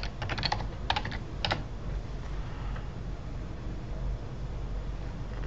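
Quick clusters of keystrokes on a computer keyboard while entering banner text in Photoshop, a few bursts in the first second and a half and then steady low room hiss with no further keys.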